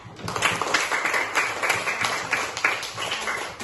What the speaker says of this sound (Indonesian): Tepuk tangan dulu untuk Arsad.